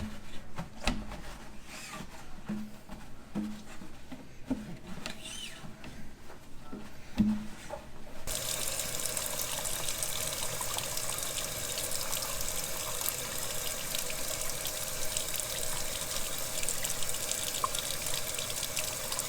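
An aquarium tank is rinsed with tap water: handling clatter and splashes come first, then running water pours steadily and loudly from a faucet, with no talking.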